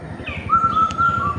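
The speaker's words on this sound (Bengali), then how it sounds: "কোকিলের কণ্ঠ কত সুন্দর।" A koel-like bird calls in a clear, rising series of whistled notes near a pond where a flock of ducks swims, loud against a steady background of outdoor noise.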